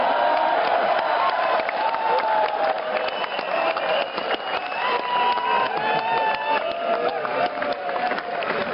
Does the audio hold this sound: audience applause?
yes